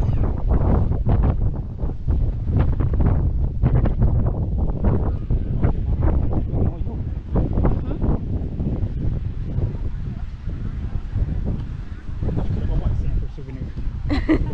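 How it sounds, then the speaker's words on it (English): Steady wind buffets the microphone throughout, a constant low roar with gusty surges, while people talk underneath. "Much more windy than Santa Cruz."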